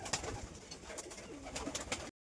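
Domestic fancy pigeons coo in a dense, continuous burble, close and fairly loud, with soft rustling behind them and no voices.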